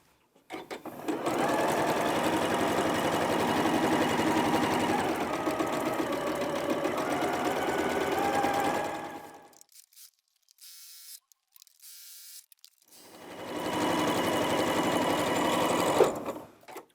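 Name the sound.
sewing machine stitching quarter-inch quilt seams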